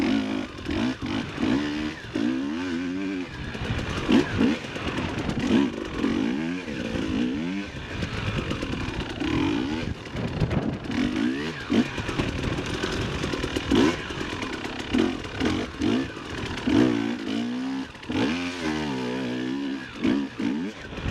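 Two dirt bikes, one a 350, ride together in third gear, their engines buzzing loud and close with continuous rising and falling revs for the whole stretch, no talk over them.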